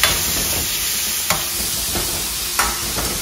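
Onion and tomato masala in a pan for Kerala-style sambar sizzling steadily as a close, constant hiss, with a few soft scraping stirs breaking through.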